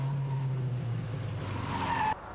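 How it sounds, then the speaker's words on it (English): A Fiat Abarth 2000 engine screams at high revs on a cone course, a loud sustained tone alongside tire squeal that holds steady, then cuts off abruptly near the end. "The Abarth scores on the cone course with good traction while the engine permanently screams for speed."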